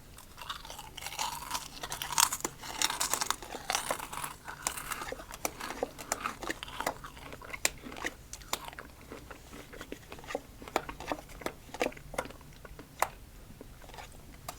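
Close, crisp crunching and biting of freeze-dried apple pieces and strawberry-like freeze-dried fruit, a steady series of sharp crackly chews over about fifteen seconds, heard alone without talking.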